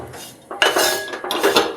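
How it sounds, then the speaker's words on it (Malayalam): A utensil scrapes and clinks against a pan as mango pieces are slowly stirred in oil for pickle, with several close, busy metallic strokes and no talking. "സാവധാനം വഴറ്റി ആ എണ്ണ കുറേശ്ശെ ഒഴിച്ചു കൊടുത്ത്"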